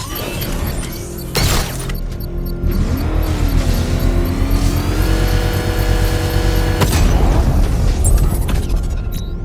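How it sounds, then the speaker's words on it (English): A controlled bomb explosion in Batman: Arkham Knight gives loud bursts with crashing debris, then a rising mechanical whine and sustained rumbling roar before another blast near the end, all without talk. "I can use the power winch to trigger a controlled explosion"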